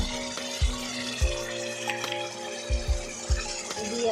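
Onion paste with ginger, garlic and green chilli paste being stir-fried in oil for a katla fish kaliya, a steady close sizzle with repeated scraping strokes of a spatula against the pan.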